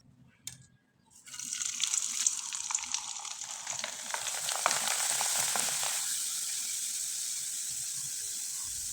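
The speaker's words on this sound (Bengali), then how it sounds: "এবার কিছুটা পিঠা আমি ভেজে আপনাদের দেখিয়ে দিচ্ছি।" Rice pitha, cakes made from leftover cooked rice, frying in hot oil: a steady, bright sizzle starts after a brief quiet moment, crackles busily for several seconds, then settles into a smoother continuous hiss.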